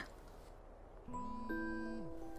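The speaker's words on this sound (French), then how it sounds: "On dirait une sonnerie de téléphone." A phone ringtone plays in the life-simulation game Sims 4 during a horror story, a single short electronic tonal ring that rises suddenly out of near silence and holds for about a second.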